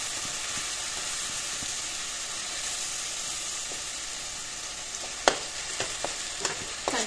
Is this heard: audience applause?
no